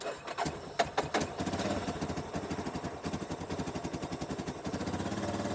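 A cold 2007 Yamaha Raptor 350 ATV engine idles steadily after starting on a chilly day of about 40 degrees, its fast, even pulsing throb continuing up close with no talk over it.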